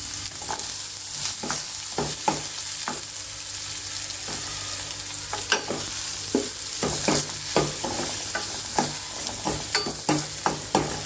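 Finely chopped medium-sized onions fry in a pan for curd rasam, a steady close sizzle punctuated by repeated spatula scrapes and taps that grow busier toward the end.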